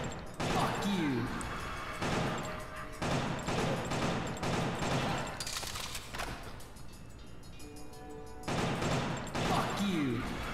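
Gunfire in Killer7 cracks out in repeated sharp bursts and volleys across the stretch, loud and close, with brief gaps between clusters and a busy game sound bed underneath.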